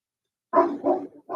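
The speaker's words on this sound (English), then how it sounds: "Ruger, you've become the most annoying dog in the neighborhood." A dog named Ruger lets out three short, gruff barks in a quick cluster, close and fairly loud, with nothing else audible.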